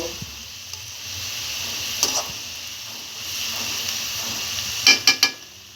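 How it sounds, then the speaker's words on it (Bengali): Fried bottle gourd is dropped onto beaten egg in a hot pan, giving a soft sizzle with faint scraping, then a quick cluster of three sharp utensil knocks near the end, close and without talk. "ডিমটাকে দিয়ে এবার আমি এই ভাজিগুলোকে এই ডিমের উপরে"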